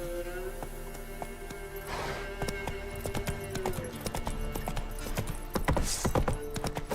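The horse Roach trotting in The Witcher 3, with clip-clop hoof beats that start sparse and grow quicker and denser, close and fairly loud over a low ambient game bed.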